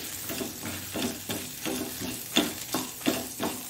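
Coriander seeds, cumin, black pepper and fenugreek fry on a low flame with a soft sizzle. Regular stirring strokes scrape the pan, about two per second.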